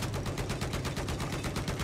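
Rapid, dense gunfire from the video game Battlefield 4 during a tank rush match, a steady rattling burst of shots running continuously at close range with no speech over it.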